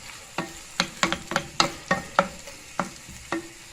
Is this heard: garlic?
yes